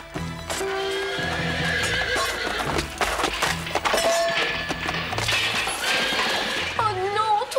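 A horse loose in a kitchen neighs loudly over a busy music bed, with hoof clatter and crockery crashing and shattering, all dense and close with other sounds layered in.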